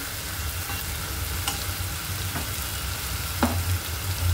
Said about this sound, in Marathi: मसाला खूप चांगला भाजायचा आपल्याला.